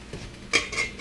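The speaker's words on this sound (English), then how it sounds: "see if this covers that frying pan." A lid set over a frying pan at home gives a brief metallic clink and scrape, close and fairly quiet, with no talk.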